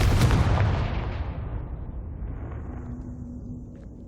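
A Confringo spell explosion in Hogwarts Legacy, one loud, heavy boom that rolls off in a long fading rumble over a few seconds, with no voices.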